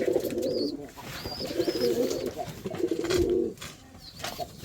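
Pigeons perched close by give repeated throaty coos in short rolling bursts, one after another, with a few faint higher chirps between them and no speech.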